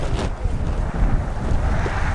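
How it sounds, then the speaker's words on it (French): Gusty wind rising before a storm in the Immidir desert, Algeria, buffets and roars steadily, a broad rushing noise with low rumble, close and fairly loud, no voices. "Le vent se lève."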